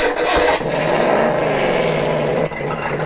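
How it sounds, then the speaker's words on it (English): A toy remote-control Batmobile from the Justice League movie line, a 6-inch-scale Mattel vehicle, plays its built-in engine start-up effect, a loud revving rumble that swells, holds steady, then dips near the end. "you just pop it on, and it'll sound like it's actually a car starting up"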